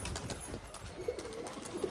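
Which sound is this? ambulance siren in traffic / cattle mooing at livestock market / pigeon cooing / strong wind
pigeon cooing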